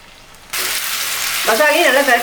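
Sliced raw plantain dropped into spiced masala oil, the pan bursting into loud sizzling after a quiet start, then crackling and bubbling harder toward the end.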